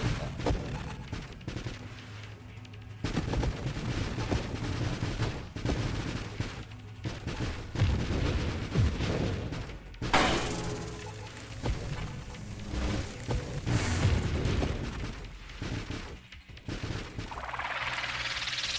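Missiles in the space shooter Nova Drift fire in rapid crackling volleys and pop in scattered small blasts, a busy, fairly quiet stream of shots with a sharper burst midway.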